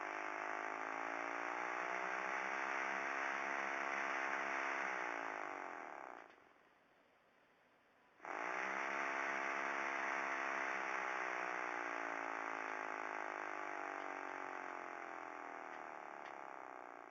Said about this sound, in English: on and off pretty fast, and that's what drives the motor